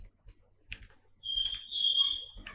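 Quiet keystrokes on a computer keyboard while writing Flask contact-form code, a faint scattered run of taps, with a brief tonal beep partway through.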